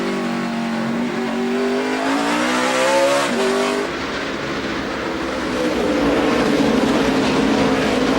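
Elliott Sadler's NASCAR Nationwide Series race car at the 2012 Sargento 200, heard from inside the cockpit: a loud, continuous engine roar rising in pitch through the gears, dropping on a shift, then climbing again.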